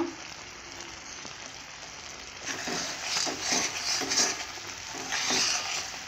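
Amla murabba, an Indian gooseberry preserve, is stirred in a pan with repeated soft scraping strokes that grow louder and more rhythmic partway through, alone and close.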